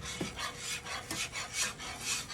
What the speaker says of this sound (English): Keep whisking.